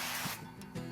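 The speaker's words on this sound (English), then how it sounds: "Just a spray, because this is going to help that it doesn't stick" Duck fat is sprayed onto a hot stovetop grill in a short close hissing burst, followed by a softer second spritz, with no voices.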